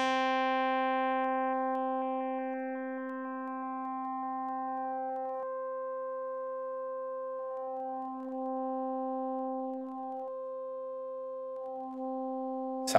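A sustained synth tone from an OP-1 Field's string synth with phase-shifted waves, a steady held note with stacked harmonics whose pitch seems to drift subtly, heard alone and clearly, with a brief click at the end.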